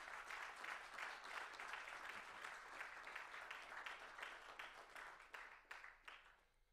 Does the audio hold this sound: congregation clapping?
yes